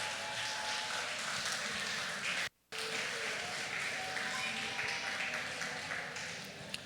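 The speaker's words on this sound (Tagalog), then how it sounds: "malakas ang hiyawan" A church congregation cheering and clapping for birthday celebrants, a continuous, faint crowd roar with scattered claps, briefly cut by a moment of silence before resuming.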